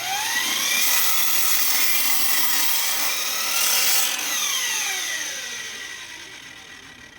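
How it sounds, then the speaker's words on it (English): A handsaw cuts through an old scrap wood board, steady back-and-forth rasping strokes close up and fairly loud, easing off toward the end. "I'm going to cut about 3 inches to 4 inches of this off."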